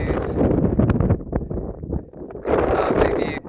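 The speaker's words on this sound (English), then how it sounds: "it's too windy" Strong wind buffets the microphone on a New Zealand volcano summit, a loud rumbling roar that rises and falls in gusts, with a voice briefly underneath.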